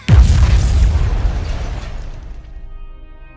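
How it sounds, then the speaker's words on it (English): A bomb detonates in a Power Rangers episode: a sudden loud blast with a deep rumbling boom that rolls on and slowly fades over a few seconds. "the bomb is detonated."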